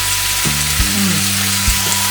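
Water boils in a pink electric shabu hotpot and grill, a steady loud bubbling hiss with faint tonal hums running beneath it, with no talk over the sound.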